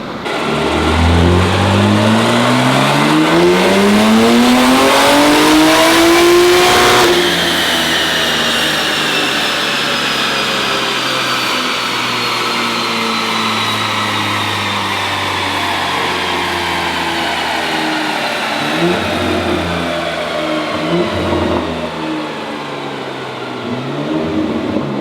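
A BMW G8X engine on a dyno revs hard through a rising pull, loud and close, then drops off and settles into a rougher idle with a few blips toward the end.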